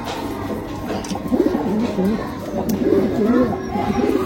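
Rampuri pigeons coo in low, warbling rolls, close and clear, while someone talks over them.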